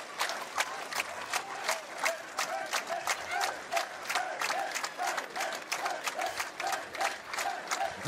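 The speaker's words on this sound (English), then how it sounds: "We have a cheering on from Finland now." Finnish supporters in a packed hall at an arm wrestling championship in Sweden clap in a fast, even rhythm, sharp claps repeating steadily through the whole stretch over a low crowd murmur.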